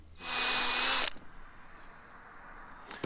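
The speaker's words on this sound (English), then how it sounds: "we've drilled it on the bench and not on the car" A power drill whines at high speed for about a second, drilling a throttle arm from a Citroen 2CV on a bench, then stops, leaving quiet room noise before a brief second burst at the end.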